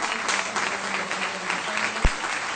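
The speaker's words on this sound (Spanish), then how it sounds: "vamos a dar un aplauso grande al profesor" An audience applauding at a conference panel, dense steady clapping from many hands that fills the whole moment, with a couple of louder close claps near the end.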